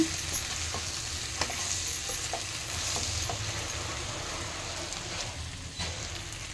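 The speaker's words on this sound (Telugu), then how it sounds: "చూడండి ఈ విధంగా వేయించుకోవాలి" Peanut powder and spices are stir-fried in a pan, giving a steady soft sizzle with scattered scraping and clicking from stirring.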